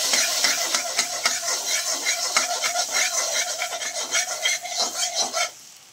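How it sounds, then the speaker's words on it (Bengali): Butter sizzling in a kadai over a low flame, a steady bright crackle with rhythmic scraping strokes running through it, close and fairly loud, then cutting off near the end. "কড়াইয়ের ভেতর বাটার দিয়ে দিয়েছি"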